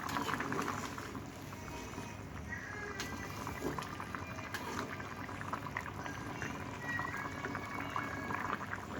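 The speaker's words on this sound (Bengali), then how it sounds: "এদিকে মাংস সিদ্ধ হয়ে এসেছে" A pot of meat bubbles and simmers steadily on the stove, a continuous soft gurgling with a few faint clinks and some background noise.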